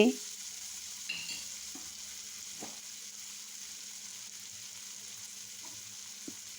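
Onions frying quietly in a pan, a faint steady sizzle with a few light, sparse scrapes of a stirring spoon, nearby and without speech.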